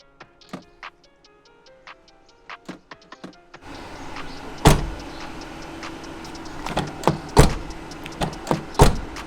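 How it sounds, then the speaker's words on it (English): Doors of a 2022 Jeep Grand Cherokee L Limited opening and shutting: several sharp, close thuds after a stretch of faint ticking clicks, with no talking. "The doors don't sound too nice either."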